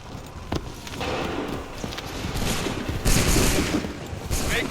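Musket volley fire in a battle in Assassin's Creed 3, several dense, noisy bursts of massed shots one after another, with continuous loud battlefield clatter underneath.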